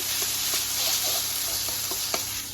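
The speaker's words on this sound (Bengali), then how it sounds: "এখানে চাউমিনটা দিয়ে দিয়েছি একটু হালকা করে ভেজে নেব" Chow mein fries lightly in a pan at home with a steady, close, hissing sizzle, broken by small pops and faint stirring scrapes, and no talking.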